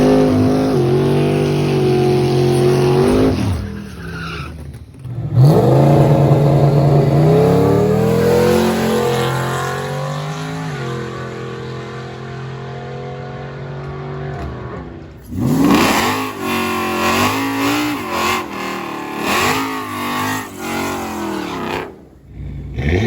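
A twin turbo 2020 Ford Mustang GT accelerates hard on a drag strip pass, its loud engine revving up through rising gears in several surges with brief shift breaks, close and powerful.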